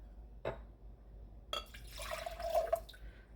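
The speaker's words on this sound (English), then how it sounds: "So then we'll add water to this one." Water is poured into a pot holding an orchid, a soft drip at first, then a short trickling, splashing fill that is quiet and close.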